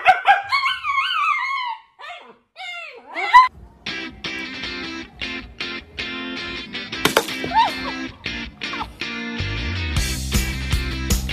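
A dog barks and whimpers after a person imitates barking at it, with high yelps and whines at first, then a burst of repeated sharp barks mixed with clatter and louder noise toward the end.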